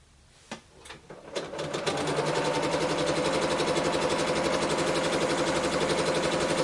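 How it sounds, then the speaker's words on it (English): A sewing machine starts with a few clicks, then runs at a fast, steady whirring rhythm while stitching a quilt block, close and continuous to the end. "So let's stitch it on."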